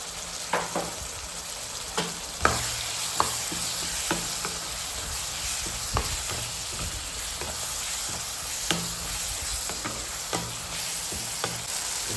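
Coriander and curry leaves sautéing in a hot pan, a steady crackling sizzle punctuated by repeated sharp clicks and scrapes as the leaves are stirred, close and even throughout.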